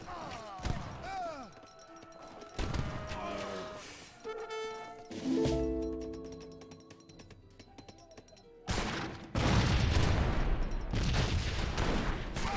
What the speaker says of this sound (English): Obelisk guns take some massive fire there from the Grenadiers.